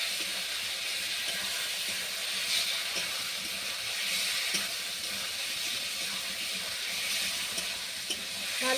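Potatoes and fish, alongside eggplant, fried and stirred in a pan for a curry, giving a steady broad sizzle with faint scraping ticks from the stirring, fairly quiet and without talk.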